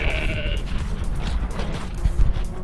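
Sheep in a field bleat a few times, a wavering nasal call near the start standing out over breezy outdoor rumble and rustle, moderately close.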